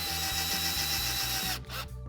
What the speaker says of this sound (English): And I'm just going to screw it right to the wall.